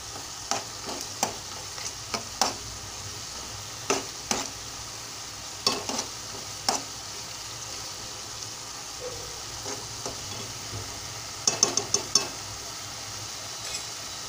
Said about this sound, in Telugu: అల్లం వెల్లుల్లి పేస్ట్ కొంచెం వేగాలండి.